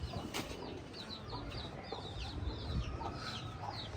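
Faint, continuous clucking of chickens in a quiet yard, with scattered small chirps and soft rustling throughout.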